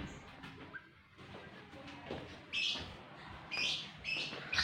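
Small birds chirp and tweet outdoors in a quiet setting, with short bright calls that grow more frequent and louder in the second half over faint background sounds.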